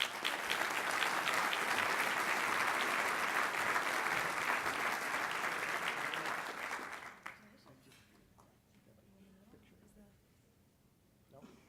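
Steady, loud applause from a luncheon audience welcoming Dr. Kyle Larson, program coordinator for UCM's College of Technology, holding for about seven seconds before dying away into quiet room murmur and faint movement.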